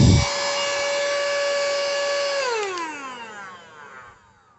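Blower unit of a small rechargeable vacuum cleaner whirring loudly and steadily at close range, then spinning down with a falling pitch as the motor winds down and fades.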